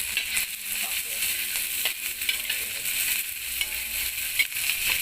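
Garlic, shallots and chili frying in hot oil, a steady loud sizzle with stirring scrapes throughout, close by.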